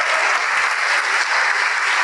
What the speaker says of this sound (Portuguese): Vamos aplaudir mais, vamos aplaudir.